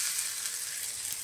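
Stuffed brinjals dropped into hot masala of ginger, garlic, curry leaves and turmeric in a pan give a steady, close hiss of frying that runs evenly without a break.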